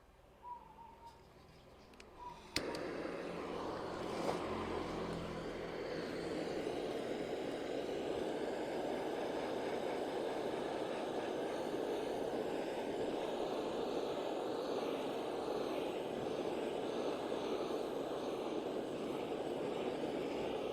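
A gas torch blows a loud, steady roaring flame to preheat the area around an aluminium workpiece before low-temperature rod welding. The hiss starts abruptly after a short, quieter lead-in and then holds at an even level.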